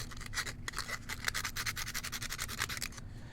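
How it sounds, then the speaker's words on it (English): Steady rhythmic scraping of sandpaper rubbing back and forth on wood, close up, in quick repeated strokes with no talking. "I'm going to smooth it off just a bit for now"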